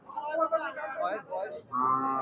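A cow moos close by in a few drawn-out, wavering calls, ending with a longer, louder low.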